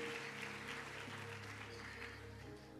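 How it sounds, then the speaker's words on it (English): A church congregation claps during a Sunday service at Mbabane Miracle Centre, producing faint, continuous applause heard from a distance. "clap your hands for them"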